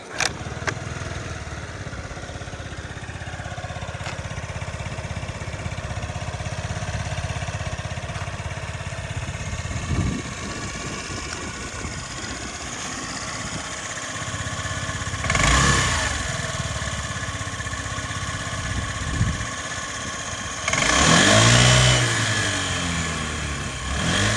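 Honda Tact AF75 four-stroke fuel-injected scooter engine idling steadily up close, rising in a couple of short revs near the end, with no talking over it.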